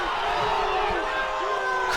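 Stadium crowd at a rugby match reacting to an offside call, a broad roar of many voices swelling toward the end, heard beneath a commentator's steady talk.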